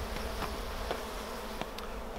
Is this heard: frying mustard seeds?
no